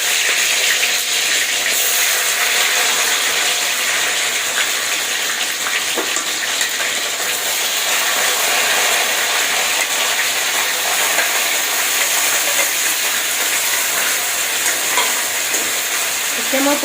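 Paneer fries in hot oil in a wok, giving a loud, dense, unbroken sizzle that holds steady and close for the whole stretch, with faint occasional spatula movement underneath.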